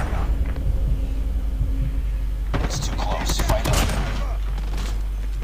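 Gunfire in the mobile video game Call of Duty Mobile, a steady low rumble first and then a flurry of sharp shots in the second half, with a voice briefly audible.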